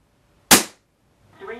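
A single sharp shot from a Weihrauch HW40 air pistol, used around the house for pest control, with a faint rustle of handling following after a short pause.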